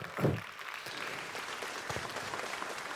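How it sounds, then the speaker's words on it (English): An audience at a talk claps briefly for a volunteer, a light, fairly faint patter of hands at moderate distance with a few louder individual claps. "Let's give another round of applause for helping out."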